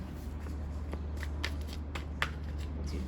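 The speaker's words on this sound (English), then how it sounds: "Couple more shuffles." Tarot cards being shuffled by hand, a series of quick riffling bursts with small pauses between, close and fairly quiet over a low background hum.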